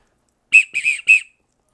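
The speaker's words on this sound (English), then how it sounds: "The next thing here is the whistle. Let's try this out." A shrill keychain survival whistle sounds in three quick blasts, the middle one slightly wavering, sharp and close against otherwise silent surroundings.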